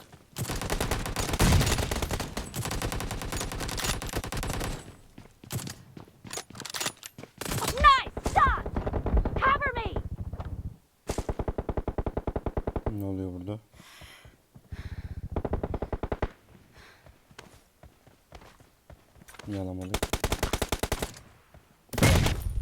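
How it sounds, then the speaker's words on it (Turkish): Bursts of automatic gunfire and single shots during a PUBG Mobile firefight, loud and near, coming in clusters separated by short gaps, with voices talking between and over the shooting. "Sağda bir çatışma var."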